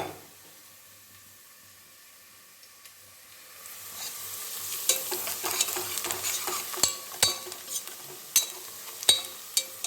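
Onions roasting in a pan for vegetable pulao: near-silence at first, then a rising sizzle with repeated sharp spatula scrapes and taps against the pan, growing louder and busier toward the end, with no voices.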